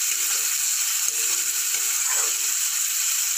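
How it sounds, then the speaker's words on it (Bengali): Green beans and carrots fry in a pan with salt and ground black pepper, giving a steady close sizzle with faint stirring scrapes throughout, no voices. "হালকা ফ্রাই করে নেব বিনস আর গাজরটাকে।"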